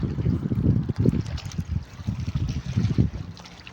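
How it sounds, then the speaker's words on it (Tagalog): Rough, churning sea water sloshes and slaps continuously at close range, with heavy low rumbling surges like strong waves against a boat hull at a fishing site in the Philippines. "Malakas ang alon ngayon."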